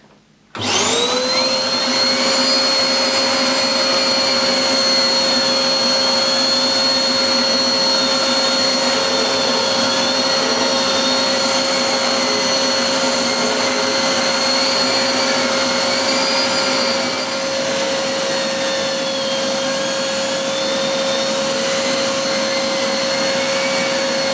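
Hoover Blaze bagless cylinder vacuum cleaner with an H-Lab carpet head, switched on and running steadily on carpet, a loud continuous motor whine alone with no talk.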